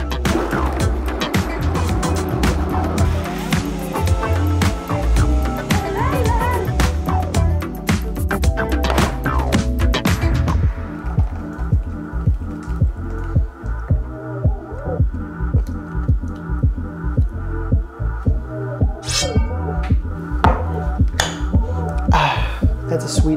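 A kitchen blender pureeing a batch of vegetables into smooth salsa, a loud steady throbbing motor roar that runs continuously and shifts pitch partway through as the contents smooth out.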